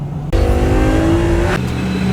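Several BMW cars rev and accelerate loudly on a track at a BMW driving school, with a sustained engine roar that rises in pitch and carries on without pause to the end.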